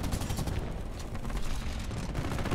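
Dense, rapid video game gunfire crackles continuously in a dense burst, loud and close throughout.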